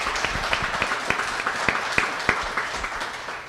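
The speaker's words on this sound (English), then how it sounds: "can we have a big round of applause for this very entertaining panel today?" Audience applause for a panel at a small business tech event, a brief burst of many hands clapping with a few sharper individual claps standing out, fairly close and steady.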